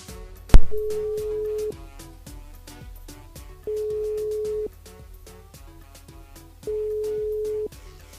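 Repeated telephone ringback tones sound on a call placed to a radio contest winner: three steady beeps about three seconds apart, each lasting roughly a second, after a sharp click at the start.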